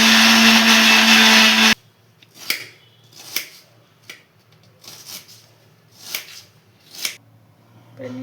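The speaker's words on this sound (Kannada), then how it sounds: "ಕೊತ್ತಂಬರಿ ಸೊಪ್ಪು ಹಾಕಿ ಬನ್ನಿ ಮಿಕ್ಸಿ ಮಾಡ್ಕೊಳ್ಳೋಣ." A mixer grinder blends mint and coriander leaves with a loud, steady whir for under two seconds, then cuts off abruptly, followed by a handful of brief, soft clattering knocks spaced a second or so apart.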